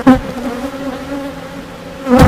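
Honeybees buzz steadily around an open hive during an inspection, a close, continuous hum with a louder burst at the start and end.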